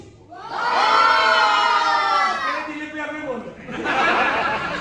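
Baby shower guests cheer and shout loudly as a crowd, a sustained burst of whoops and yells that dips briefly and then swells again into a second round of noisy cheering.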